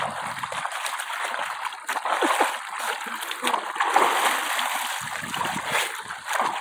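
Water splashes and patters steadily from a shower, a continuous close spray with bursts of heavier splatter, while people talk intermittently over it.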